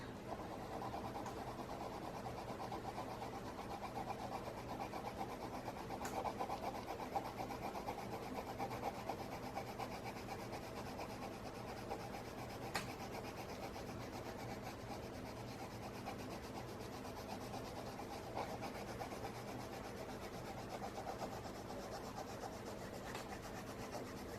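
A black coloured pencil shading on paper with light pressure, giving a soft, steady scratching rub that runs continuously and close, faint and even throughout.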